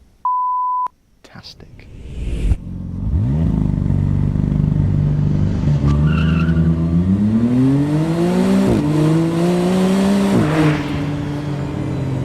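A McLaren Artura supercar launches from a standstill, its engine note climbing through several rising sweeps broken by brief dips at gear changes, loud and close, after an initial beep and a few short clicks.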